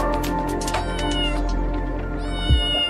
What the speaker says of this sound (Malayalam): പൂച്ച ഫെലിസ് കാറ്റസ്.